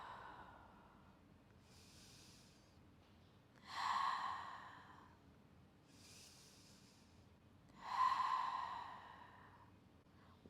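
A person breathes out slowly during a hip-opening stretch, two soft, drawn-out exhales rising and falling a few seconds apart, close and quiet with faint breathy hiss between them.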